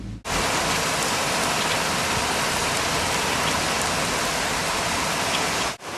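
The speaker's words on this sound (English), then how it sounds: "Can you guys hear that? That is the sound of rain." Steady rain falls outside, a dense, continuous hiss of drops that holds evenly at full strength from start to end, with no voices over it.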